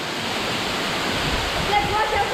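A waterfall's steady broadband roar, continuous and fairly close, fills the scene on a rugged mountain trail, with faint voices barely present under the rushing water.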